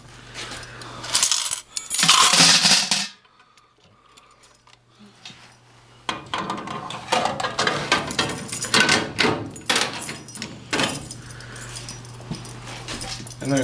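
Coins clattering and jingling as they are handled and dropped inside a laundromat machine, bursts of metallic rattling with quiet gaps, people talking in between.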